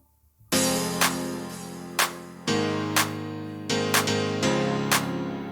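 Layered M1 piano and Keyzone Classic piano play a series of bright, full chords, each struck sharply and left to ring and decay before the next, with about five distinct hits at an uneven pace, clean with no other sounds.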